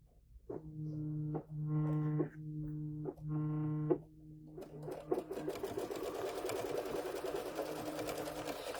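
An embroidery machine stitching to tack down quilt batting runs in several steady humming bursts with short pauses, then gives way to a rattling, noisier whir that continues to the end.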